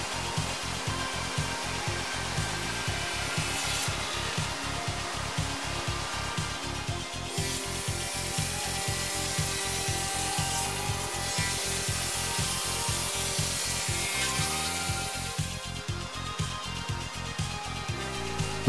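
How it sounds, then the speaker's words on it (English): Hundegger 5-axis timber mill cutting dovetail joints into the underside of a timber component: a steady, moderately loud machine whine with a fast regular mechanical pulse running throughout. "Dovetail joint milling on the component underside is an example of the great flexibility"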